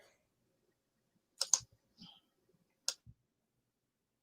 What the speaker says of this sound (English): I like hearing typewriters and typing.